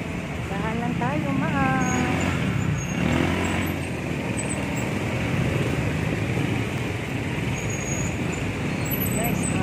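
Busy road traffic on the way to Antipolo, with a steady hum of cars, trucks and buses idling and creeping along, and a brief hiss like an air brake, under people talking.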